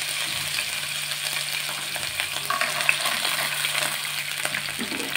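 Urad dal and chana dal are stirred as they fry in a hot pan, giving a steady close sizzle with scraping and rustling spoon movements throughout and no voices.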